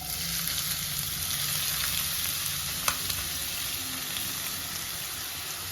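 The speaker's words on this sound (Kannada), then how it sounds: "ಸೊ ಎಣ್ಣೆ ಚೆನ್ನಾಗಿ ಕಾದಿದೆ. ಇವಾಗ ಇದಕ್ಕೆ ಈರುಳ್ಳಿ ಹಾಕ್ಕೊಳ್ಳೋಣ." Onions dropped into hot peanut oil for a chicken gravy, frying with a loud, continuous sizzle and crackle close by, one brief stir or clink near the middle, and no voices.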